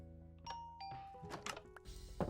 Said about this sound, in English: it's a much slower doorbell noise